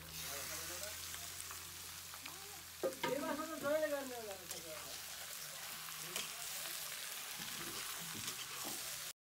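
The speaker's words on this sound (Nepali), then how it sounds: "अघि काटेको चिकनलाई यसमा एड गर्नुहोस् र मजाले केही बेर भुट्नुहोस्।" Chicken fries with onion in a pan for a Nepali-style local chicken dish, a soft, steady sizzle with stirring scrapes, and a person talks briefly partway through.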